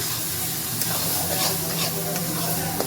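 A mango mixture is stirred in a hot cooking pan, giving a steady sizzling hiss with soft scraping strokes, close and continuous.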